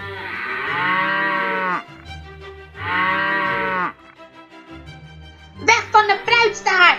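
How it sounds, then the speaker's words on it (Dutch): Cows mooing in a toy-figure farm scene at a wedding celebration, two long, loud, close moos in succession followed by shorter lowing, with a voice speaking at the end. "Oh nee! Wat doen de koeien daar?"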